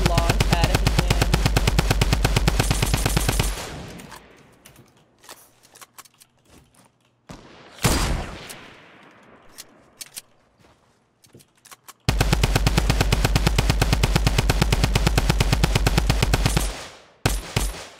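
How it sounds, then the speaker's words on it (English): Rapid automatic gunfire rattles out in a Fortnite Battle Royale match while a player shoots at a launch pad, a loud sustained burst, then scattered lone shots and clicks over a quieter stretch, then another long volley that cuts off. "Shoot down the long pad if you can."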